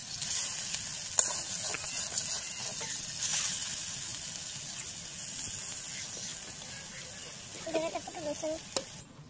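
Cut cabbage pieces fry in hot oil with a constant, close sizzle and occasional crackles and stirring, and a voice is heard briefly near the end.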